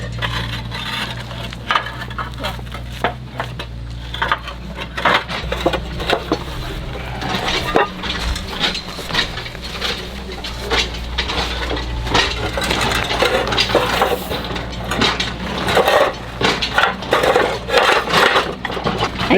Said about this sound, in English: I'm gonna go move those ceramics right there, the tiles, and put them on top of the wall